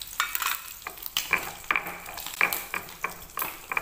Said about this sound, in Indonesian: Ditambahi minyak, teman-teman, minyak yang panas ya.